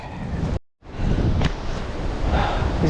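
Strong mountain wind roars on Seoraksan, loud and continuous, buffeting the microphone with a brief dropout before gusting back at full force.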